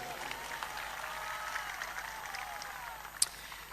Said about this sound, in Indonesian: Kita berikan tepuk tangan untuk beliau